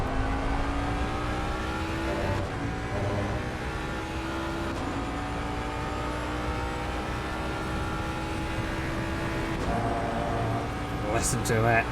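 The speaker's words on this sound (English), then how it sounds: "Listen to that glorious American V8." A V8 GT3 race car engine in the video game Assetto Corsa Competizione at the Nürburgring drones steadily, its pitch slowly climbing and shifting between gears, with other engines, including Porsches, whining in the background.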